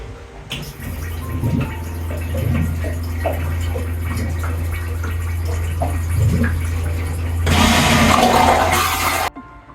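The marine toilet on an Aquila 32 boat flushes on setting 1: a long steady pump drone with small clicks, then a loud rush of water near the end that stops suddenly, heard alone without voices.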